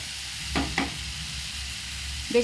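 Food frying in a pan on a home stove, with ash gourd slices among the dishes being cooked; a steady soft sizzle runs throughout, broken by two quick stirring clinks near the start and another near the end.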